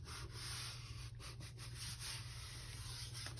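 Blue colour being rubbed into junk journal paper, a faint close dry scratchy rubbing with several quick strokes over low steady background hum.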